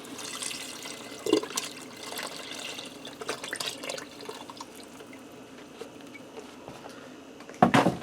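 Beef broth pours into a pressure cooker holding beef, a steady faint liquid wash running throughout, with a brief clatter near the start and a sharper knock at the end.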